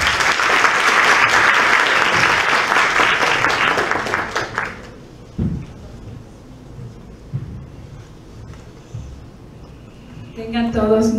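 Lecture audience at a university law and political sciences faculty applauding loudly and steadily for about five seconds, then fading to scattered claps and room noise with a brief burst near the end.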